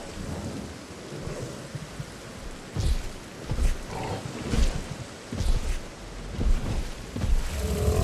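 Heavy rain pours steadily in Jurassic World Evolution 2, a dense wash of noise with low rumbling swells recurring every second or so, close and continuous with no voices.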